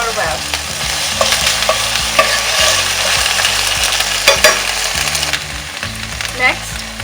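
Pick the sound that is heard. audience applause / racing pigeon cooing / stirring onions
stirring onions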